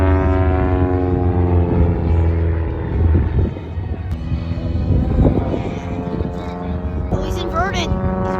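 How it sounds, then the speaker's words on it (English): A Super Chipmunk aerobatic plane with a 280 hp Lycoming Thunderbolt engine drones steadily and loudly overhead at an air show, its engine note shifting as it manoeuvres, with an announcer talking over it. "it has double the original power with a fire-breathing 280 horsepower Lycoming Thunderbolt engine"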